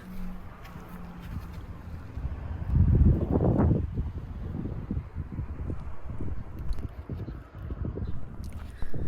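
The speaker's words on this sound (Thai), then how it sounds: "วันนี้ลมแรงมากค่ะ มีเสียงลมก็ขอโทษขออภัยด้วยนะคะ" Strong wind buffets an outdoor microphone in a Japanese home garden, a steady low rumble that swells into a loud gust a few seconds in, then keeps rustling and thumping in uneven bursts.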